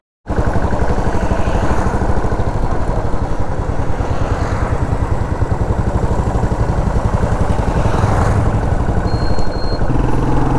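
A 2018 BS4 Royal Enfield Bullet 500 motorcycle thumps along a main road, its engine loud and close with a steady, continuous single-cylinder drone that rises slightly in intensity through the ride.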